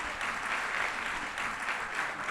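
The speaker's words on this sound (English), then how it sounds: "I would like you to all give yourselves a big round of applause." Steady audience applause fills a live event hall, a dense even clatter of many hands clapping without a break, with no talking.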